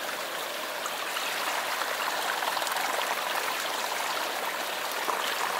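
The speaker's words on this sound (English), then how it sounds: "we got the water lily in the water. She's spinning away." A Water Lily turbine sits in moving water, and a steady, close rushing and gurgling of stream water fills the whole stretch without pause. No voices are heard.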